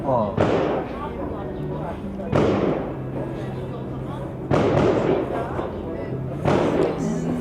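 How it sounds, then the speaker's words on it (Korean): Four loud, sharp gunshot-like bangs ring out in a street in Istanbul's old town at intervals of a couple of seconds, each echoing briefly off surroundings, with a steady hum and murmuring between them. "근데 총소리 같아 꼭."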